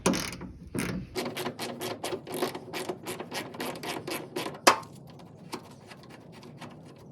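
A hand ratchet with a 10mm socket works bolts loose behind the headlight of a 2014 GMC Yukon, giving rapid, even clicking strokes up close, then a sharp clack and a few sparse clicks as it slows.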